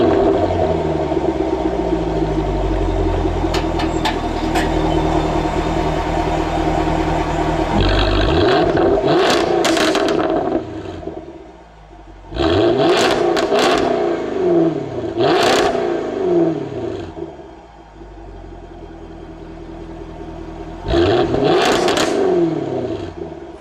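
A 2016 car's engine is revved hard several times, each loud, close surge climbing in pitch and then dropping back to idle between bursts.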